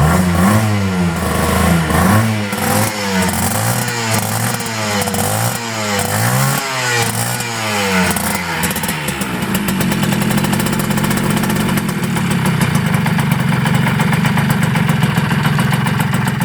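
A restored Yamaha FS1-E 50cc two-stroke motorcycle starts, then revs in repeated rising bursts up close. It settles into a buzzy, crackling idle.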